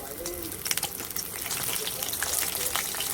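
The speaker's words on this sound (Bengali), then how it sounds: "মাছটা ভাজা হয়ে গেছে ভালো করে, এবার তুলে নিচ্ছি" Fish sizzling in hot oil in a home kitchen pan, a continuous crackling hiss that grows slightly louder, with soft scraping and faint background sounds around it.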